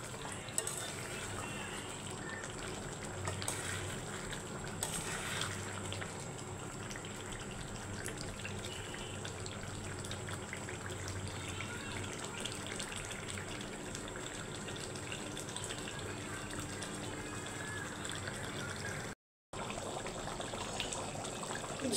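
Liquid for gravy poured into a pan of braised pangas fish, a faint continuous watery rush and bubbling simmer over a long stretch with occasional stirring knocks and one brief dropout, no talk.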